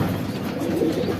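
A black female pigeon coos in a loft, a soft, continuous low murmuring call held steadily at close range for about a second.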